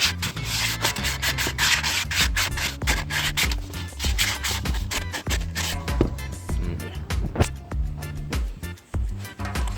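Something rubs the inside of a calabash bowl smooth with rapid, rhythmic scraping strokes, close and loud throughout, no speech.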